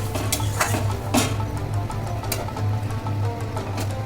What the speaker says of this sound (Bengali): এবার আমি কিছুক্ষণ নাড়িয়ে নেওয়ার পর ঢেকে দেবো